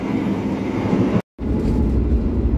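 An Argo Bromo Anggrek passenger train runs at speed after leaving Jambon station, a loud, steady rumble of rolling wheels and car noise heard up close from inside, broken by one brief total dropout mid-way.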